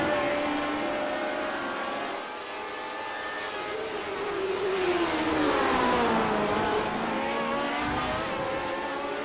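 Classic Lotus GP race cars in the iRacing sim at Road America roar under acceleration out of a corner, several engines layered with rising and falling harmonic pitch sweeps, loud and continuous throughout.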